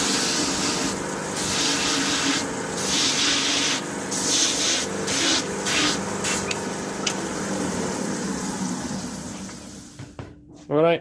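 A big rubber belt-cleaner block is pressed against the running sanding belt of a band facer, producing a loud, continuous abrasive hiss and rub with short louder surges before the sound cuts off near the end.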